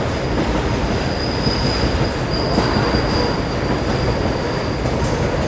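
The 12264 Nizamuddin–Pune AC Duronto Express runs on rails after leaving Jalgaon, a loud continuous rumble with a high steady wheel squeal heard from inside the train.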